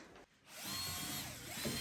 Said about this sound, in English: I'm going to attach a drill on the end